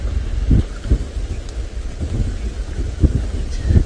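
Low thunder rumbles under steady wind and rain during an approaching storm on an open safari drive at sunset, with periodic deep thumps, a constant noisy wash and no clear talk.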